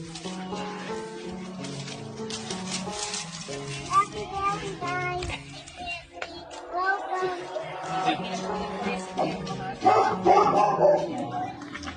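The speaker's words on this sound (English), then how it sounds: "Meantime, the dog is going crazy." An excited dog yips and barks in short bursts mixed with whimpers, close by, under overlapping talk and cheerful voices at a Valentine's Day surprise.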